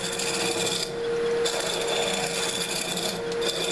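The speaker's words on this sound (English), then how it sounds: "I mentioned I use a Stanley Sureform for this. Cuts very quickly." A Stanley Surform rasp files steadily across a cork rod grip, a continuous close scraping rasp with a brief lull about a second in, with no voices.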